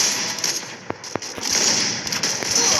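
Gunshots ring out during a Free Fire battle royale match, a few sharp cracks scattered over a steady hiss of game background sound.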